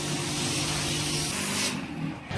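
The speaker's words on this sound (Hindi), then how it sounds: "अर्बन कंपनी के इसी पावरफुल स्प्रे से एसी के फ्रंट कॉइल्स को साफ किया जाता है।" Powerful pressure spray hisses steadily while cleaning the front coils of a window air conditioner during an Urban Company service, a continuous broadband rush that cuts off near the end.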